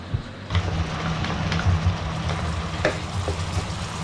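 Steady sizzling of garlic and chicken sautéing in a pan for a creamy chicken and spinach pasta, with a continuous close frying hiss and a few stirring scrapes.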